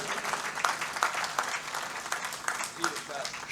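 An audience at a Hindi kavi sammelan poetry recital in Delhi claps in a short burst of scattered, uneven applause, moderately close, with a voice speaking over it.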